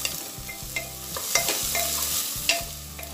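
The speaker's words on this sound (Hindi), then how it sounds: "1 प्याज को हमें हल्का सुनहरा होने तक फ्राई करना है" Two medium finely chopped onions frying toward golden in a cooker pot, with continuous close sizzling and regular scraping strokes of a spoon stirring them, loud and steady with no voices.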